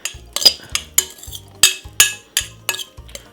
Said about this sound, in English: Give it a nice lovely stir like this to give out all of the flavor